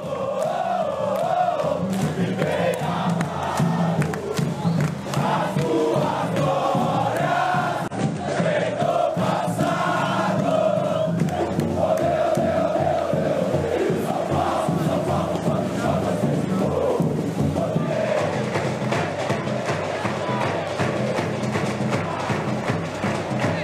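Around 700 São Paulo football supporters chant together in the street outside the club's training ground, a dense, steady crowd roar with rhythmic singing that continues without a break.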